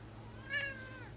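A single short cat meow sounds near a kitchen full of houseplants, fairly faint over a low steady background hum.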